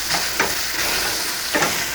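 Small shrimp fry in a pan with a dense, steady sizzle, broken by a few brief louder scrapes of stirring, close and without talk.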